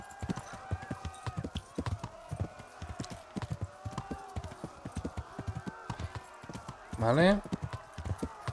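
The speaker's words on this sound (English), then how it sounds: "montamos a caballo y nos piramos de aquí" Steady clip-clop of a horse galloping in Kingdom Come, rhythmic hoofbeats running throughout, with a whinny near the end and someone talking over it.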